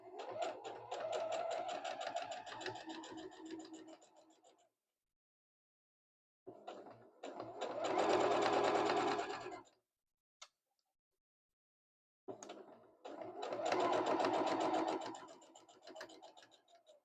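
A sewing machine top stitching 1/8 inch along the edge of a quilted pouch runs in three bursts with rapid ticking stitches and short pauses between them, close and fairly loud with no talk.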